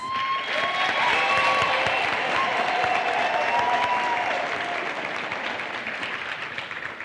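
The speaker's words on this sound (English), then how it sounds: "Can we please give the Chancellor a round of applause?" Large audience at a university graduation ceremony applauds in a dense, steady wash of clapping that fades slightly toward the end, with faint cheers and voices.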